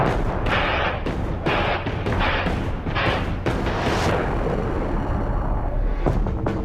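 Israeli airstrikes on Lebanon produce a rapid series of heavy booms, several blasts following one another about a second apart, then a lingering rumble and one more distant thud.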